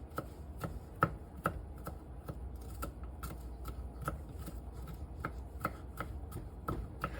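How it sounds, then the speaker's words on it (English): Steady knife chopping garlic on a cutting board, a brisk run of sharp, evenly spaced taps close by with no talking. "All right, so I am chopping up my garlic here."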